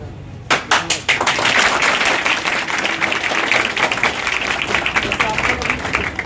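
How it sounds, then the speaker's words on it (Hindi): A seated audience at a coaching-class felicitation bursts into sustained applause, dense steady clapping from many hands close by, with some talk mixed underneath. "जैसे आप लोग अभी हम लोग के लिए ताली बजा रहे हैं ना"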